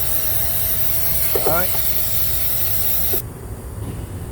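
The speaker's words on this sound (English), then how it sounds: "let's get some brake cleaner and what's not and spray the module down" A steady aerosol hiss of brake cleaner sprays continuously for about three seconds onto a 2014 Chevrolet Equinox brake control module, then cuts off abruptly, leaving quieter background noise; a brief mechanical click sounds midway.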